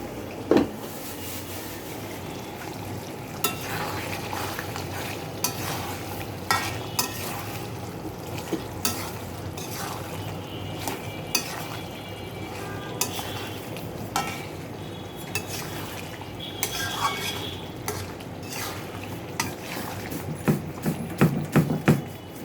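A spoon stirs egg dolma with potato and pointed gourd as it sautés in a pan, giving steady sizzling beneath repeated scraping and clinking strokes over a long stretch, close and moderately loud.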